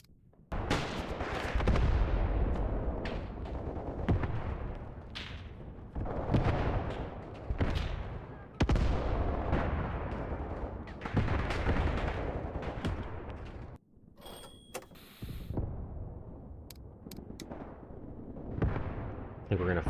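Troops fire guns and artillery in the war game Graviteam: Pivot Point, a dense run of booming shots and rumbling blasts in loud surges, with a quieter gap midway, under spoken commentary.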